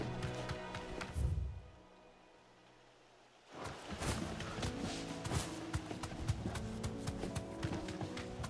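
Rhythmic clip-clop footsteps of a chocobo running in Final Fantasy XVI, starting after a short quiet gap and continuing steadily and fairly loud over game music and ambience.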